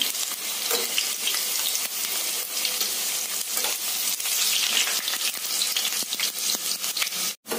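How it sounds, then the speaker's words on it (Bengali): Wet potatoes frying in hot oil, a loud continuous close sizzle with dense spattering crackle that holds steady before cutting off abruptly at the end. "এবার আলুগুলোকে লাল লাল করে ভেজে নেব। জল ছিল, এর জন্য প্রচন্ড তেল ছিটকাচ্ছে।"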